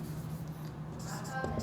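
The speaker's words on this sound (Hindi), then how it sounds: "मैं यहाँ पे लिखता हूँ" Handwriting during a Class 7 maths lesson: a faint, brief scratching of writing strokes under a nearby speaking voice.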